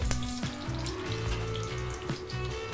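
Dried red chili pieces and mustard seeds sizzle in hot oil with fenugreek for a traditional tamarind stew, a dense steady crackling hiss close up, with a low droning hum running beneath and no voices.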